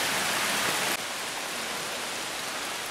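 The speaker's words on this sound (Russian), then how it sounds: "Погода сегодня, конечно, капец, не для прогулок. Такой дождь." Heavy rain on a mountain hike in Poland near Kralicky Sneznik, heard from under a small shelter as a dense, steady hiss of downpour with no pauses.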